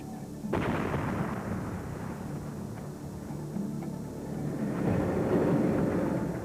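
Iraqi field artillery guns fire with a sudden heavy boom, then a long rolling rumble and a second swell of distant blast noise, loud and reverberant with no voices.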